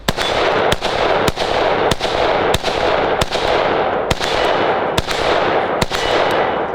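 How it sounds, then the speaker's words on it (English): Rifle topped with an LPVO scope firing about nine sharp, loud shots at a steady, unhurried pace, each crack standing out over a constant outdoor background hiss. "Just gonna go ahead and take a couple shots here."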